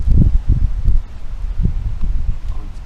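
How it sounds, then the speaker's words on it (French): Gusty wind buffets the microphone of a Kandao Qoocam camera mounted on a Bebop 2 drone, producing loud low rumbling bursts in an irregular rhythm throughout, with no voices. "quand il y a du vent, on oublie ça en maudit"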